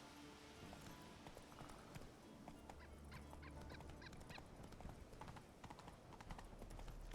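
Horse galloping in The Witcher 3, a quick, steady clip-clop of hooves over a faint ambient game backdrop, continuous and moderately close throughout.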